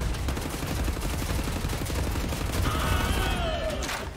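Rapid automatic gunfire from the video game Wolfenstein The New Order rattles continuously and densely throughout, with a faint whistling tone near the end.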